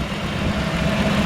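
A steady, low engine idle rumbles continuously, close by, from a 1974 Jeep CJ5 with a 232 inline-six, with no speech over it.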